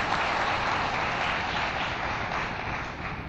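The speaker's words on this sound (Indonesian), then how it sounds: "Berikan tepuk tangan dong buat hamba Tuhan." Sustained, dense applause from a large church congregation, steady and loud throughout, tapering slightly at the end.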